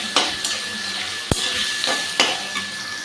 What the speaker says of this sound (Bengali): ভালো করে চর্বিটা একটু ভেজে নিচ্ছি এখানে